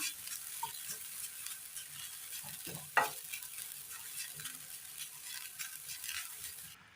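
Grated coconut frying in a pan is turned with a spoon, a soft continuous sizzle carrying irregular scraping stir strokes and one sharper knock midway, faint and close, with no talking.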